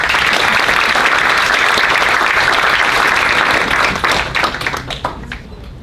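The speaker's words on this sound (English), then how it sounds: "Why don't we give them a round of applause?" A school of education inauguration audience claps loudly and steadily for the schoolchildren before the applause thins out and fades toward the end.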